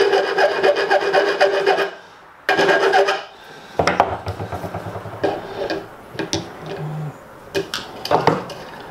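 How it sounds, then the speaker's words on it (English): A metal file rasps across a bolt thread to adjust its angle, in repeated scraping strokes with brief pauses, close and fairly loud, mixed with some clinking handling noise. "so I'll just use this file just to adjust the angle"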